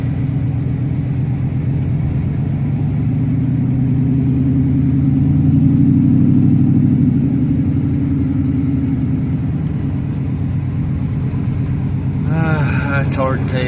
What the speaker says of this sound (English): Truck's missing pretty bad. I don't know. I'm just driving it around a little bit, trying to get it to quit missing.